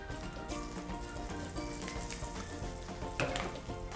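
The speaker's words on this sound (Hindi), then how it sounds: "तेल गर्म हुआ तो उसके अंदर हम डालेंगे सूखी लाल मिर्च।" Dried red chilies, green chilies and asafoetida sizzling in hot oil in a home kitchen for aloo beans sabzi, a steady close crackle throughout, with a brighter burst of spattering near the end and no voices.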